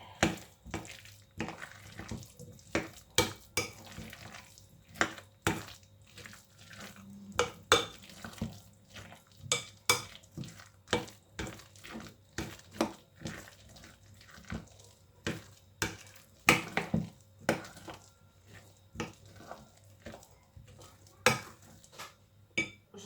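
Vegetable cake batter mixed with its cooled filling, a run of quick repeated clicks and taps of utensil against a bowl in an uneven rhythm, fairly quiet and close.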